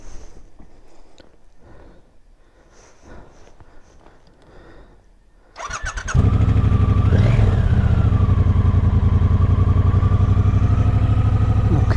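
Motorcycles, among them a Triumph Speedmaster, start up after quiet shuffling and settle into a loud, steady close idle with a brief rev.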